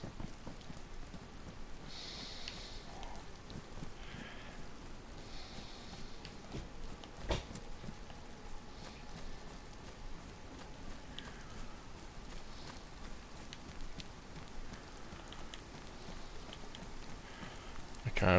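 Steady rain falling at a beach in the DayZ survival video game, a soft, even hiss throughout with faint distant rumbles, quiet and unbroken by speech.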